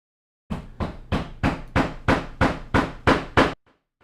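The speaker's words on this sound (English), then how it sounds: "bit louder portion of hammering" Hammering in the background, ten evenly spaced loud strikes about a third of a second apart, each ringing briefly, then stopping abruptly.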